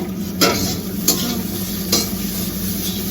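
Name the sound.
Maggi instant noodles frying in a pan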